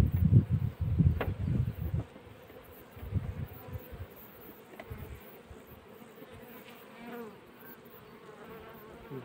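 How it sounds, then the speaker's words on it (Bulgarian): Honey bees buzz steadily around an opened hive during an autumn colony merge, a soft continuous hum with a few close thumps and handling knocks in the first seconds. "Извадим от него пити пчели."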